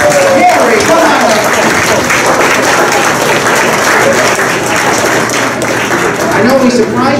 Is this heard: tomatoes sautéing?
no